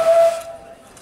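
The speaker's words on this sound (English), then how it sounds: "That was the guard's whistle." A guard's whistle on the Talyllyn Railway at a steam train departure, a single loud, shrill, steady blast that fades into hiss within about a second.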